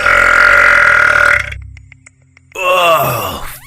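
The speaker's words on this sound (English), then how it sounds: "He finished chugging a pint and burped." Two loud, drawn-out burps, a long rumbling one, a brief pause, then another that groans downward, close up.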